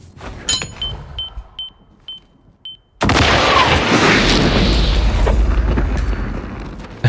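In Hitman 3, a few light clicks and thuds precede a fragmentation grenade explosion that bursts into a loud, sustained roaring blast with rumbling debris.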